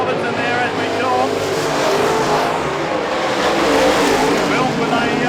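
Production sedan race cars roar around the dirt oval at Wahgunyah Speedway during a night race, a loud, continuous engine din with revving and tire noise under a commentator's voice.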